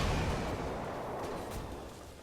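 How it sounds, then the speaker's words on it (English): Gyrocopter's Rocket Barrage ability in the Dota 2 video game fires, a dense, steady barrage of rocket whooshes and blasts that continues loud and unbroken for a couple of seconds. "You used Rocket Barrage."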